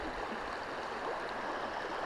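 The Hérault river streams steadily in a constant, broadband wash of flowing water, close and even throughout, with no voices.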